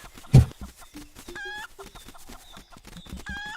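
A chicken clucks repeatedly in the Link's Awakening video game on Switch, a string of short, bright electronic clucks in quick bursts with a louder thump near the start.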